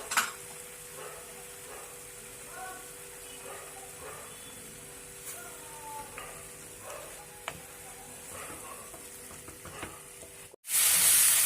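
Ground spices and yogurt sizzling in oil in a pan for an Aar fish curry, a continuous soft frying hiss with occasional spatters and stirring scrapes, ending in a louder burst.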